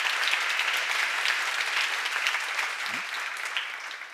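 Congregation at a church seminar bursts into applause, a dense, steady wash of clapping that fills the room and fades slightly toward the end.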